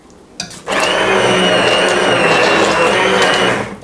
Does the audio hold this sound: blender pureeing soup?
yes